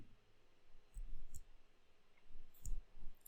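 Up and down arrow keys tapped on a computer keyboard while shaping curves in Adobe drawing software, heard as a few quiet, separate clicks in two small clusters over a low background hum.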